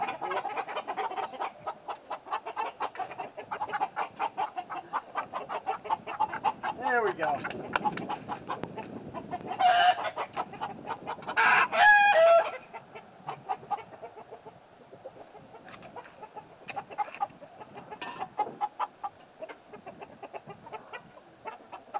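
Backyard chickens cluck steadily near a feeder while a person talks over them, with a brief louder flurry of squawks partway through.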